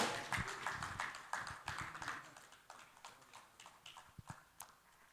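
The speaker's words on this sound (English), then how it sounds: "Please give Professor Isaac Adewale another round of applause" At an annual lecture and induction ceremony, an audience applauds Professor Isaac Adewale with a moderately faint, irregular patter of hand claps that swells and thins across the hall.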